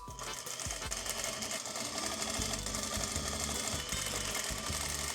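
A sewing machine stitches down a corset seam with a rapid, continuous mechanical chatter that pauses and restarts briefly, loud and close.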